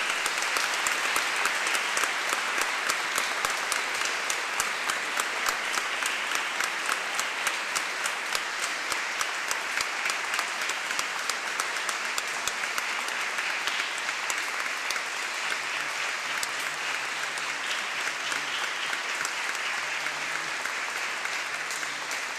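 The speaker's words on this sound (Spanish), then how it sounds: "Pues les damos un fuerte aplauso." Steady, dense applause from a congregation in a church after a Sunday Mass honoring married couples, sustained clapping filling the space without a break, with no speech over it.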